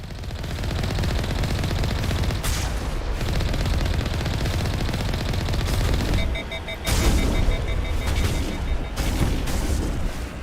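Weapon fire in Mass Effect 1 Legendary Edition, dense sustained bursts of rapid gunshots with booming impacts, loud and continuous, briefly pausing before resuming.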